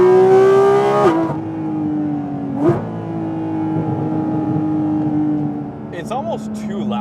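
A Porsche Cayman GT4 RS engine revs high and loud in a sustained whine, with sharp shifts in pitch as the revs drop and climb again.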